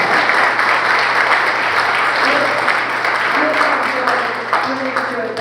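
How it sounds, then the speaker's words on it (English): An audience at a community talk gives the speaker a sustained round of applause, dense and steady clapping that fades slightly toward the end, with a voice speaking over it. "first let's give Dr. Jones a round of applause"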